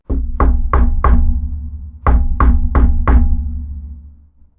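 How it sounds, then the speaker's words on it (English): Knuckles rap on a door in a visual novel sound effect: two loud, close sets of four evenly spaced knocks separated by a short pause, heard alone. "he hears some knocking on the door."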